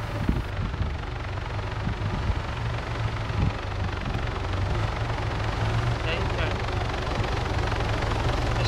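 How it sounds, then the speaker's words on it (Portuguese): Helicopter landing in the video game Arma 3, a loud continuous rotor drone with rumbling low thump under several people chatting over voice comms. "Ele tá pousando numa área ilegal. Ele não vai pousar."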